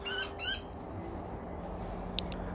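Exotic parrots squawk in two loud, harsh bursts close by, then a pair of sharper calls follow later over a steady, noisy background.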